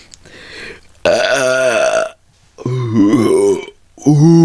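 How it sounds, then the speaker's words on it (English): Three loud, drawn-out burps right up close, each long and croaky with brief silences between them. "Oh my god, I feel a burp and it won't come."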